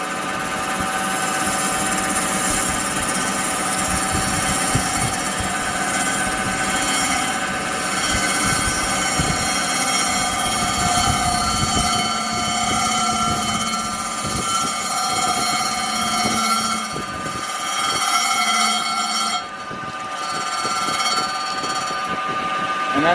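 A crankshaft turns against the grinding wheel of a Storm Vulcan grinding machine with coolant running, giving a continuous steady whine and hum with faint ringing tones that dips briefly near the end.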